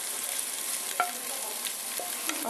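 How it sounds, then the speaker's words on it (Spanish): Onion sweating in a pan for a Dominican salt cod stew, a steady broadband sizzle with a few soft spoon-and-pan scrapes over it, close and constant throughout. "sudamos la cebolla"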